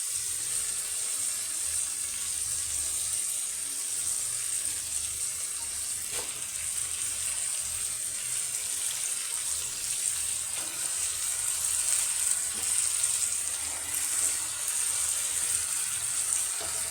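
Malabar spinach sizzling and frying in a pan with hilsa fish, a loud, steady hiss that holds for the whole stretch, with faint clinks now and then underneath.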